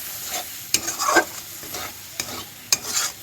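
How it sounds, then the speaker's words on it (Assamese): Spices being stirred into onions frying in a pan for a soya chunks curry: a steady low sizzle broken by a few sharp scraping strokes of the spoon, close and fairly loud. "ধুনীয়াকৈ পিঁয়াজখিনিত মছলাখিনি মিক্স হোৱালৈকে লৰাই থাকিম।"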